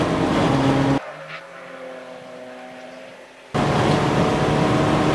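Race cars in a 750MC Club Enduro at Silverstone GP roar past loudly at close range, then the sound drops to a quieter, distant engine drone before another loud pass swells back in.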